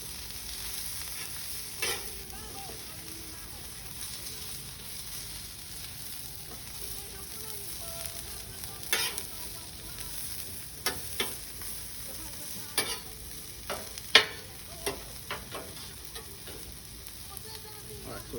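Potatoes frying on a flat-top griddle give a steady, close sizzle with a few scattered scrapes and clicks of stirring, and no one speaks.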